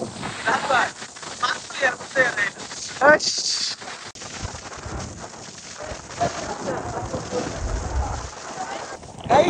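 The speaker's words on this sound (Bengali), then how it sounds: "এখানে দেখেন ঝড় উঠে গেছে" A storm lashes a boat jetty in the Maldives, heavy rain and gusting wind roaring continuously and loudly, with people talking excitedly over the din.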